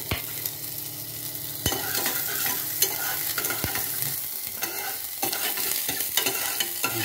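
Garlic, ginger and chili frying in a pan give a steady crackling sizzle, broken by stirring clanks of a utensil against metal, close and continuous with no voices.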